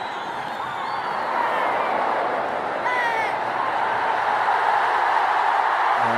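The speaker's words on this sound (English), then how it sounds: "it's a very noisy crowd" Broad, steady roar of a large cricket stadium crowd during a Rohit Sharma innings against Australia, loud and continuous with faint whistles and shouts riding on top.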